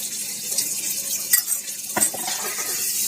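Garlic-ginger paste frying in a pan, a soft continuous sizzle with a couple of sharp clinks and scrapes of a spoon against the pan.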